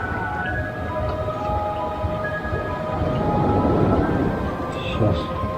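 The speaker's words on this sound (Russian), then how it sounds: "Ух ты, волны-то как бьют." Heavy surf pounds a shore at night at Novy Svet in a stormy spot, a continuous broadband roar with swelling surges, loudest midway, with faint voices in the background.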